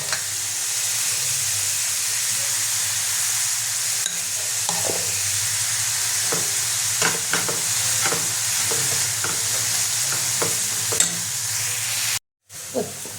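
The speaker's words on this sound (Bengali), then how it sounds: "এটা আমি হালকা লাল লাল করে ভেজে নেব।" Onion and tomato fry steadily in a pan for a Bengali-style chicken patis, a constant sizzle with occasional stirring clicks and scrapes, close and fairly loud, no voices.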